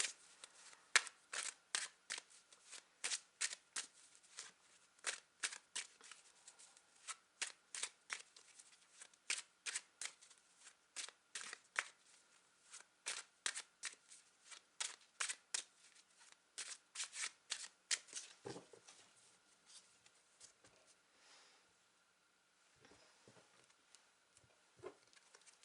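Tarot cards being shuffled by hand, a steady run of crisp riffling bursts and soft flutters repeating for most of the stretch, close and fairly quiet, then tapering off into a few scattered taps near the end with no talking.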